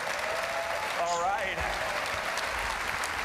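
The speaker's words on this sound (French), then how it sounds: "On sent que les applaudissements sont un peu plus pour lui" Applause from the audience at the WWDC 2018 keynote for Tim Cook, a steady clapping wash from a large crowd with a voice talking over it near the start.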